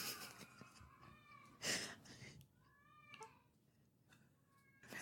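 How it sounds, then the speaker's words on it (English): A house cat meows several times in short, rising calls, near and fairly quiet, with a louder burst in the middle and a breathy, drawn-out cry later, set against a soft background. "Apparently my cat has very strong feelings about the Laguna Seca."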